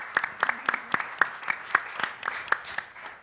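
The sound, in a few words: audience applause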